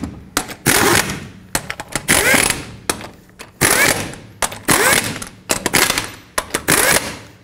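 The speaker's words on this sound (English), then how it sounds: "Once all of your lug nuts are started, go ahead and bottom them out and then torque them to 140 foot-pounds." Lug nuts on a 2007-14 Chevy Silverado front wheel being run down with a power tool, loud rattling impact bursts in repeated short runs separated by brief pauses, close up with no speech.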